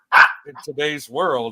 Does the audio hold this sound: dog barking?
yes